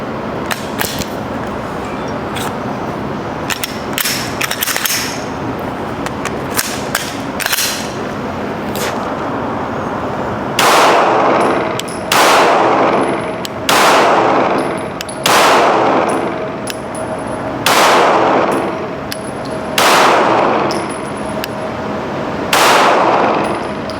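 Gunshots from a Glock pistol fitted with an aftermarket trigger, loud sharp cracks: a quick irregular string of shots followed by six evenly spaced single shots, each trailing a short ringing decay.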